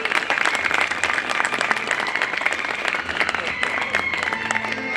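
Steady applause from the crowd at a Bar Council of Delhi enrolment meeting, dense clapping held for the whole stretch with a little crowd murmur underneath.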